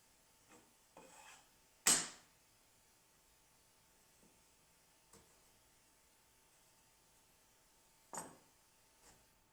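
A wooden sliding dovetail joint cut on a CNC router table is pushed together for a test fit, giving a few soft, brief rubbing and tapping knocks, one sharper, against a quiet background.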